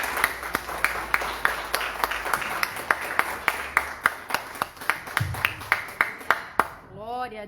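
A church congregation applauds during worship, a steady run of sharp, regular claps near and fairly loud, with a brief voice and a ringing tone near the end.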